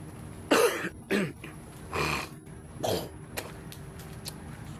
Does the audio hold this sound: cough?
yes